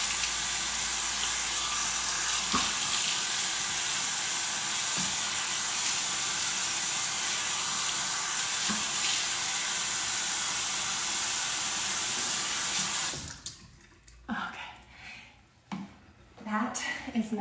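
Water runs steadily from a tap while a face is rinsed at a sink, a loud continuous hiss with splashes for about thirteen seconds, then stops as scattered handling sounds follow.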